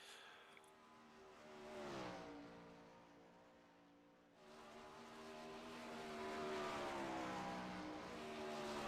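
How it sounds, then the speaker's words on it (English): Dirt track sprint cars from a 410 outlaw series race at Knoxville drone around the track with rising and falling engine tones as they pass, steady and somewhat distant, heard without talk. "at a few of these cars going around the racetrack"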